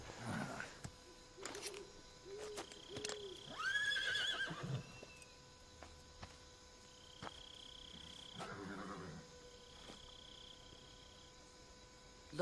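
A white horse neighs in Metal Gear Solid 3, its whinny rising clearly around the middle, with a second, shorter call later amid game tones and faint ambient sounds.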